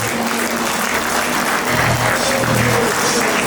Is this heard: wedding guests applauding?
yes